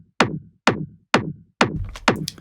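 Layered attack sample for a techno kick, four sharp percussive snaps in a steady rhythm, each a bright click with a short low tail, the last one busier and doubled, alone with no talk.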